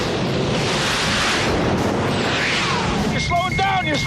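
Explosions from the film Top Gun, a dense roaring blast that fills the whole clip, loud and rumbling, joined toward the end by sharp electronic beeping tones.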